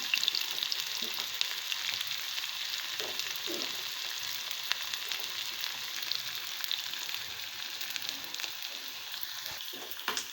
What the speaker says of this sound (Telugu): ఇది బాగా గోల్డెన్ కలర్తో ఫ్రై చేస్తున్నాను